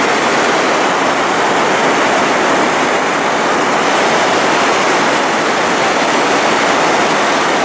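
Loud, steady roar of a rushing river at Fällfors, Sweden, a dense unbroken wash of noise filling the whole stretch with no voices.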